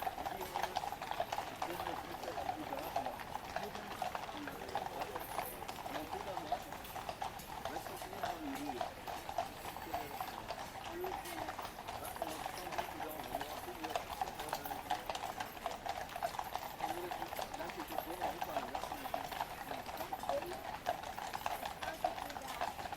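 Household Cavalry horses ridden by troopers clip-clop in a long, steady stream of overlapping hoofbeats on hard ground, continuous and fairly close, while a voice talks over them.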